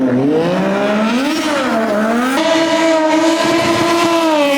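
A Moto2 drift motorcycle engine runs loud and close in continuous rising and falling revs, its tone climbing and dipping with the throttle and never going quiet.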